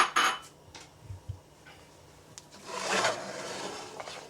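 Red pepper, green pepper and onions stirred in a pan, a few soft scrapes and clinks of utensil on metal followed by a longer sizzling rustle, close but fairly quiet, no talking.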